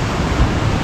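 Large sea waves surge and wash close around a moored boat, a steady broadband roar of surf with wind buffeting the microphone throughout, loud and continuous with no voices.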